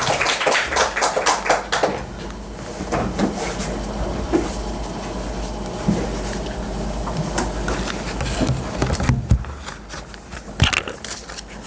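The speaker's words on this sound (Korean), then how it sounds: "우리 선우관 선교사님 우레와 같은 박수로" Church audience clapping to welcome a missionary, a burst of loud applause that settles into scattered, uneven hand claps and taps, swelling again briefly near the end.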